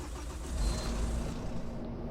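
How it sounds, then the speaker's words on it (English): A Volvo B9TL Gemini 2 double-decker bus in the OMSI 2 simulator starts up, its diesel engine settling into a low, steady idle rumble, quiet and without speech. "I love the engine startup noise, that's pretty cool."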